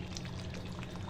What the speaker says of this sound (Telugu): 1 గ్లాస్ వాటర్ పోసాను,